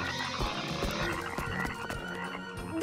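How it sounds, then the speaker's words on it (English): Frogs croak in an animated show, a cluster of repeated ribbity calls close by set against a busy cartoon soundtrack with music and effects, and no speech. "Froggies."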